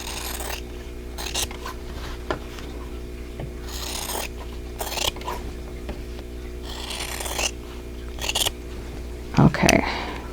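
Outer triangles are trimmed off a vintage quilt block in a few separate rasping cuts and rubs over a low steady hum, with a sharper clatter near the end.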